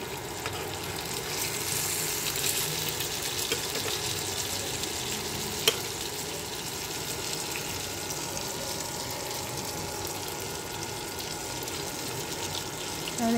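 Sarpunti fish fry in oil in a frying pan, giving a steady, close, continuous sizzle that holds evenly throughout, with one faint click midway and no talk.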